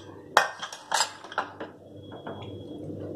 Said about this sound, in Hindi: अब मैं कुकर खोल रही हूँ।